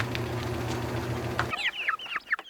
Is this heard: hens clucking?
yes